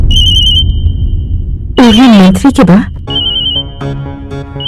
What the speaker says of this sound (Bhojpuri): केकर फोन बा?